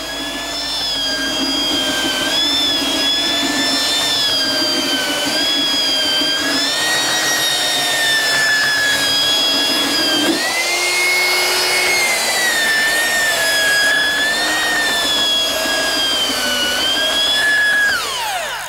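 A power sander whines steadily at close range as it shapes and chamfers the edge of a foam jig former for a fiberglass boat build, its pitch dipping briefly midway. No one speaks over it.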